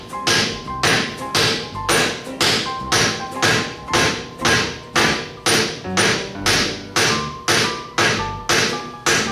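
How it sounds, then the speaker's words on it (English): Steady, evenly spaced hammer taps drive a steel bushing insert into a 1961 GMC truck, about two sharp metallic knocks per second, loud and close. "Now I'm gonna go ahead and I'm gonna tap that in there."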